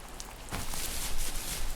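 Rain falling in the video game The First Tree makes a steady, broad hiss that swells slightly louder partway through and continues evenly without talk.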